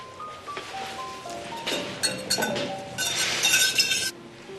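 A spoon clinks against glass or china as someone stirs, a run of light, bright taps growing denser and louder toward the end, heard close with background music underneath.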